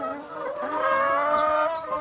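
Hens cluck steadily and close up in a coop while their eggs are gathered by hand, a continuous layered clucking with no talk over it.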